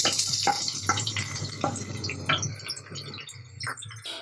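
Onion, garlic and green chillies sauté in hot oil in a pan, giving a soft sizzle broken by repeated scraping and clinking strokes of a stirring utensil at an uneven rhythm.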